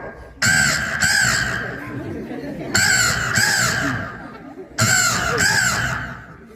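A voice imitates a crow's harsh caws, three loud paired bursts with short pauses between them, close and clear.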